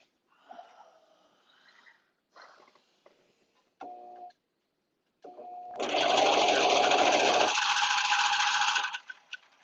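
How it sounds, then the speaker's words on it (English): A serger sewing machine runs in one sustained, loud burst while stitching fabric for bell-bottom pants, after some scattered quieter handling sounds and short motor blips. "I serge the bottom when I serge the front and back together"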